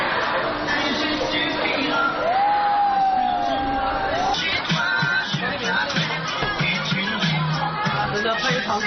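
Crowd of riders screaming on the Cliff Booster ride in Shenzhen, a high wailing scream rising and falling amid general shouting and babble, with a person talking nearby.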